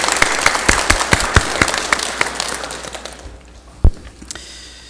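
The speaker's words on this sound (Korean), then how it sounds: "제사장들에게 다시 한번 큰 박수 보내드리겠습니다." Congregation applauding in a church during a Sunday afternoon Christmas service, a crowd of hands clapping with distinct sharp claps standing out, tapering off after about three seconds with one loud knock afterward.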